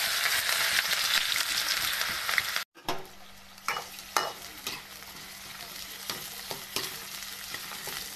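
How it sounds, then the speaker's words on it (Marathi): Onion, green chilli and garlic hitting hot oil, a loud dense sizzle that cuts out for a moment, then a softer crackle under repeated clinks and scrapes of stirring, with no talk. "आता मी कांदा, हिरवी मिरची आणि लसूण टाकून घेते"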